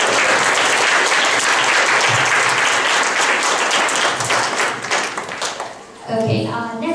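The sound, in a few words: audience applause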